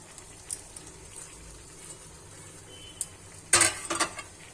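Chunks of young jackfruit tumble into a pan with potatoes for a jackfruit-prawn curry, a short loud clatter and scrape of metal near the end after a quiet stretch of faint kitchen clinks.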